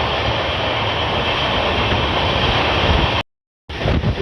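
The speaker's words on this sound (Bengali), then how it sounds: "আমাদের ট্রেন সর্বোচ্চ গতি নিয়ে ছুটে চলেছে বাগনানের পথে" The Dhauli Express runs at full speed toward Bagnan, a loud, dense rushing roar of wheels and wind from on board that cuts out briefly near the end before resuming.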